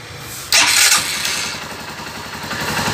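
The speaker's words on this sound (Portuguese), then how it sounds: "E agora vamos ligar a chave e dar partida na motocicleta." A CG 150 Sport motorcycle engine cranks and catches with a sudden loud burst, then settles into a steady, close, rhythmic idle putter with no other sounds.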